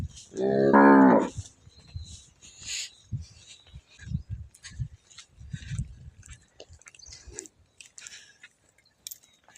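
A cow lets out one loud, drawn-out moo, followed by quieter chewing and shuffling sounds nearby.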